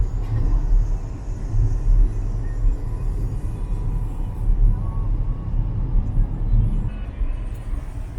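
Car driving along a road in Ireland where the speed limit is 100, a constant low engine and road rumble heard from inside the cabin with steady tyre noise and no talking.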